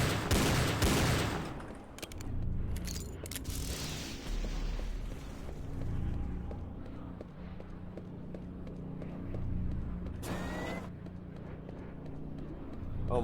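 Rapid gunfire at a shooting gallery in the Doom RPG Roguelike Arsenal game, loud bursts up front and a sharp shot near the end, with dense game noise throughout.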